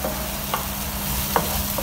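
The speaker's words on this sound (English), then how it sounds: "We're gonna saute off these." Ingredients for a fish soup sauté in a pan, a steady close sizzle with a few faint utensil taps scattered through, no voices.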